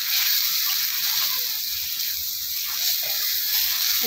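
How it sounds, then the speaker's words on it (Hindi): Masala of turmeric and red chili powder frying in a pan for stuffed bitter gourd (bharwa karela), giving a steady, close, continuous sizzle and hiss that runs unbroken throughout. "इसको अच्छी तरीके से मिला के दो मिनट तक फ्राई करेंगे"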